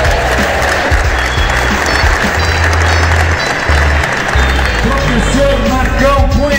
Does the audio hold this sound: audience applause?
yes